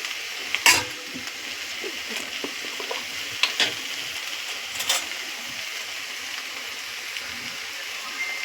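Ghee added to a pan of cabbage cooked with katla fish head, a soft steady sizzle with scattered scraping stirs and clicks of a spoon, fairly close but low in level.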